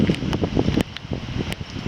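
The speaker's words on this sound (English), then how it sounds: "It's raining so hard you can't even see it." Heavy rain and gusting wind outdoors give a rough, buffeting rush with crackly patter, close to the microphone and fairly loud through a short stretch with no talk.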